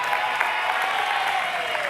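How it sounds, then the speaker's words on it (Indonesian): A studio audience on the Indonesian game show Family 100 claps briefly for a contestant, a short steady wash of applause with a faint tonal sound underneath. "Tepuk tangan yuk buat Raisya."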